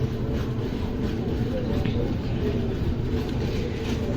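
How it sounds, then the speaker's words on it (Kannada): The Karnataka Express, train 12627 running from Bengaluru to New Delhi, makes a loud, steady rolling rumble with dense rhythmic rattling of wheels on rails, heard close throughout. "ಕರ್ನಾಟಕ ಎಕ್ಸ್ಪ್ರೆಸ್ ಬೆಂಗಳೂರಿಂತ ನ್ಯೂ ಡೆಲ್ಲಿಗೆ ಹೋಗುವಂಥ ಗಾಡಿ"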